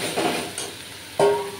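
Spices and potol for dahi potol fry in a pan with turmeric added, a soft sizzle broken by a couple of stirring scrapes, close and fairly loud.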